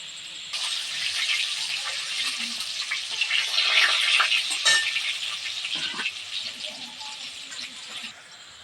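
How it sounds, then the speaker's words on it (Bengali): Potato pieces frying in hot oil in a pan, a steady close sizzle that swells in the middle with a few clinks and stirring scrapes, then fades near the end. "এবার আলুটা আমার ভাজা হয়ে গেছে,"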